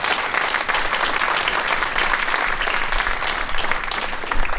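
An audience in a room at a Vancouver AI meetup applauds the Ethos Lab crew, giving dense, steady clapping that carries on evenly across the whole moment without a break.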